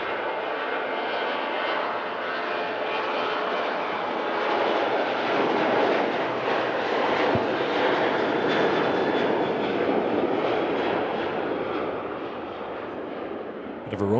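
Loud, steady aircraft engine rumble from airliners at Manchester Airport, a broad continuous roar that swells slightly midway and eases toward the end, with no talk over it.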